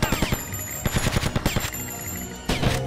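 Rapid bursts of gunfire in the video game Grand Theft Auto Vice City, loud, close and rhythmic, with a short pause before another burst near the end.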